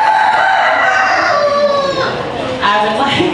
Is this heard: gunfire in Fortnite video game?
no